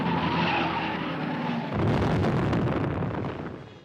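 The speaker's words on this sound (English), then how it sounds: "He spun and hit that wall that angled out to the track" A red race car at the Indy 500 spins out of control with a long screech and roar, then slams into an angled wall with a heavy, rumbling crash that fades over a few seconds, loud and without voices.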